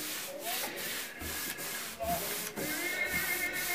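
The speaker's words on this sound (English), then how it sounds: "give it a little very light sand, I can feel that it's a lot smoother, the surface now." Light hand sanding of a chalk-painted wooden dresser, rhythmic back-and-forth rubbing strokes at a steady pace, close and fairly loud with no voices.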